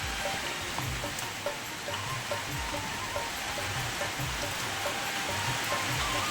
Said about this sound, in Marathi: आता असा भरपूर पाऊस चालू झाला आहे